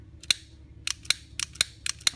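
Short, sharp mechanical clicks from a firearm's short stroke trigger kit, a quick series of crisp snaps, some in close pairs, with a quiet background.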